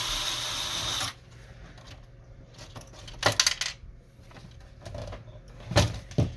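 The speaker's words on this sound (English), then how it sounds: "Then we're going to remove the 2 screws right here and right here." A screwdriver removes two screws from an HP Officejet Pro 6830 printer, with close, faint clicks and scraping, a few sharper metallic taps, and a short burst of noise at the start.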